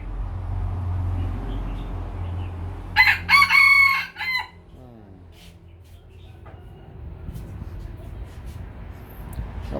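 A Lao rooster lets out one loud, close cock-a-doodle-doo that lasts about a second, over a low rumbling background that carries on quietly before and after.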